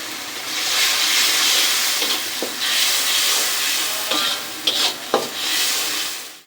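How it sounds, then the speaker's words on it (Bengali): Spices with turmeric, coriander powder, chili powder and salt are sautéed in a pan for a Bengali chickpea lentil dish, a steady hissing sizzle broken by a few clicks of a spoon scraping and stirring. "এখন ভালো করে কষিয়ে নেব।"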